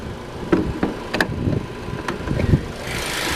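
A 2013 Ford Focus with its 2-liter direct-injected four-cylinder engine idling, a low steady hum broken by a few faint clicks and small knocks, heard alone with no talking.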